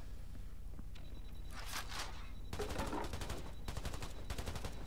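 Rapid bursts of gunfire aimed at a box in the video game Black the Fall, several sharp rattling volleys in quick succession over a low ambient hum, close and fairly loud.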